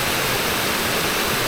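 River water flowing down from a waterfall in the Peak District, a steady, loud, close rush of broadband noise without pause or voices.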